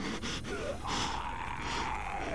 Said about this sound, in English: Breathing sounds.